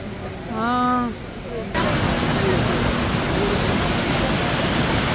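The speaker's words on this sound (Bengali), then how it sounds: "ওই যে এইটা একটা ঝর্ণা, ওইটা একটা ঝর্ণা" A steady broadband roar of a nearby waterfall by the lake at Riva del Garda, Italy, filling the scene continuously after a brief stretch of talk.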